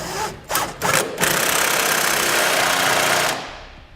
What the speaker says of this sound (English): I'm going to come back with a 15/16 inch socket and snug up my two 5/8 bolts